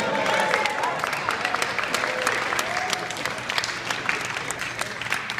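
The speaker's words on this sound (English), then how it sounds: "how about a nice round of applause for the father of the bride" Wedding guests at a reception clap for the father of the bride, a dense, continuous round of applause from a nearby crowd with faint voices mingling underneath.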